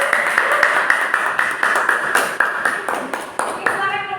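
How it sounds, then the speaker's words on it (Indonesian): A school class gives a short round of applause: a loose group of distinct claps falling in a fairly regular rhythm, each hand strike clear, with a faint ringing tone underneath and a voice briefly heard. "Oke, beri tepuk tangan."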